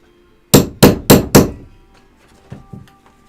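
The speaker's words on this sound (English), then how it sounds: "this tool has a like a divot on it, and we're just going to give it a couple little taps" Four sharp metallic taps in quick succession from a rivet setting tool striking a rivet, loud and close, followed by a few faint softer knocks.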